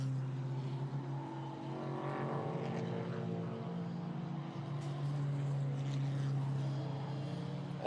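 GT4 race cars, an Aston Martin Vantage and a BMW, racing at the Red Bull Ring: a steady engine drone heard from a distance, holding a sustained tone with slow pitch shifts throughout.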